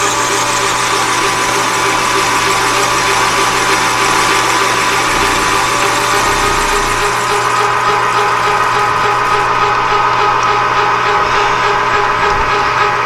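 A metal lathe runs at 360 speed with an out-of-true spider making it bounce, giving a loud, steady mechanical drone with a low rhythmic throb and hum throughout, with no talk.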